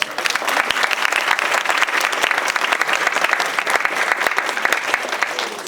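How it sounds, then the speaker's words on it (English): Audience applause fills a community conversation room at a Martin Luther King Day event, steady dense clapping from many hands holding at an even level throughout with no voices over it. "So please give yourselves a round of applause."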